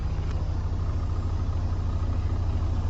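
A truck engine idles at a steady low rumble, close and constant, with no talking as the driver puts the vehicle into first gear during an air brake check.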